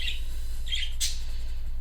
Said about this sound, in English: So that's been really nice to hear them chirp.